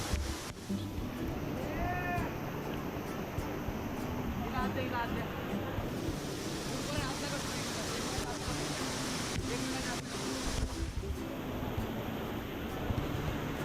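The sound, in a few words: flowing waterfall stream in monsoon jungle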